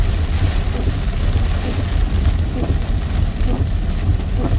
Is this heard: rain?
yes